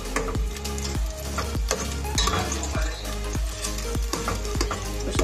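Garlic frying in a pan for beef mechado sizzles steadily, with repeated metallic clinks of a utensil against the pan and a little talk in the background.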